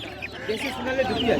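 Native and mixed-breed chickens at a Bardhaman district livestock market give a brief burst of nearby clucks and squawks, overlapping with someone speaking.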